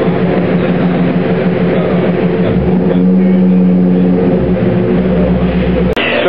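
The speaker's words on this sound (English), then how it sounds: "it's shifting into overdrive" A 2004 Mercury Marauder on a chassis dyno roars continuously at full load, then its drone drops in pitch as the transmission shifts into overdrive. The sound is loud, close and unbroken.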